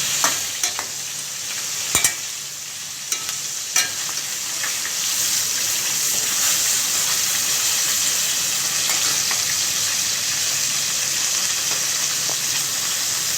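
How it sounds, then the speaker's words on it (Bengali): Katla fish head frying in oil over a low flame, a steady dense sizzle that carries on throughout, with a few sharp clinks early on from stirring or turning the pieces. "এইভাবে ভাজতে থাকবো আরও কিছুক্ষণ।"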